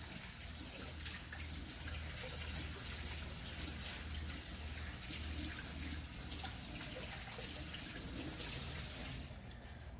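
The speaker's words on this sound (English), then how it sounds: "Then I'm going to just rinse the dough off my hand." A running tap pours steadily as dough is rinsed off a hand, a close, even gushing splash that continues throughout and eases slightly at the end.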